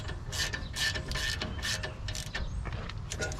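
Pliers tightening a nut on the rear brakes of an Audi A7 or A6 with a supercharged 3.0T Quattro, a rapid series of close metallic clicks and grinding ratchet-like turns.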